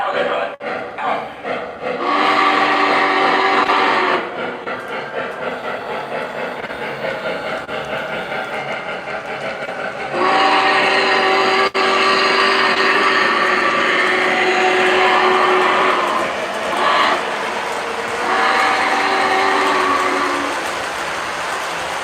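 A Z-scale model train runs along its track with a steady mechanical whir and rattle, loud and close, its pitch swelling and easing as it passes, alone without talk.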